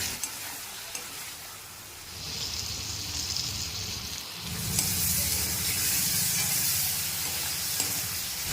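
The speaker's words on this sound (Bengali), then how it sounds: "সামান্য পরিমাণে জল দিয়ে মাংসটা খুব ভালোভাবে কিন্তু কষে নিতে হবে" Chicken pieces cooked in a pan with salt, cumin, chili powder and a little water, giving a steady close hiss and bubbling sizzle that grows louder and fuller partway through, with occasional stirring scrapes and no talking.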